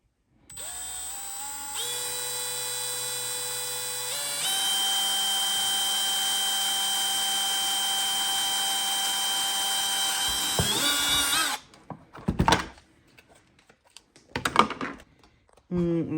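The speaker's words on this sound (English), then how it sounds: "So I'm just going to drill that second hole now" A power drill whines steadily, rising in pitch as it speeds up, then stops, drilling a hole in a kayak; brief clunks and short bursts follow afterward.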